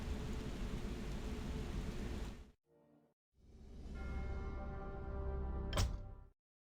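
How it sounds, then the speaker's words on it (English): Heavy rain hisses loudly in a Warcraft 3 The Frozen Throne cutscene, breaks off briefly, then returns as a rolling rumble of thunder with a sharp crack near the end before cutting out. "Where did this storm come from?"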